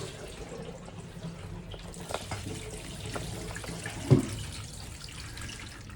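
Water draining from a sink gurgles softly and steadily at low volume, with a few faint knocks and one brief thump partway through.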